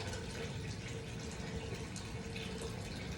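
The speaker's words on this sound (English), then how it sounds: "you can just put some water on your gloves" Water runs steadily onto gloved hands while an alginate dental impression is smoothed, a soft continuous rushing close by with no talking.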